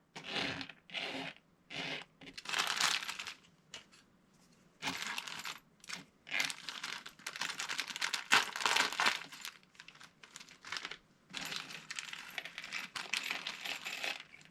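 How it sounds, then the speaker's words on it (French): Plastic bag of model kit parts being opened and unwrapped by hand, bursts of crisp crinkling and rustling separated by short pauses, close and fairly quiet with no talk. "Dans le sachet, on va déballer"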